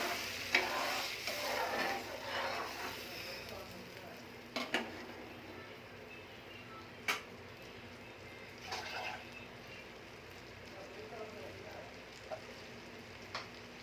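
A pan of turkey berry curry with added water simmers and sizzles with a bubbling hiss, broken by a few sharp clinks of a utensil against metal, close by.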